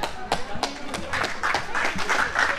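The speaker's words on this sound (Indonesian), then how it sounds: "Ya, tepuk tangan semua." Scattered audience clapping beside a giant mining truck exhibit, a handful of distinct claps turning into a brief ragged patter, close and moderately loud with background voices.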